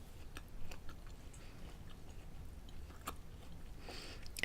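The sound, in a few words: eating a piece of candy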